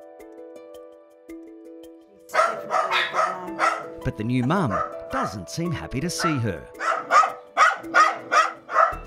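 A newly whelped mother dog guarding her puppies barks repeatedly in sharp, agitated bursts, close by, while a person talks over the commotion.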